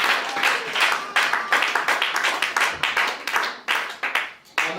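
A church congregation breaks into close, lively applause, with dense clapping swelling and easing in waves for several seconds before it thins out near the end.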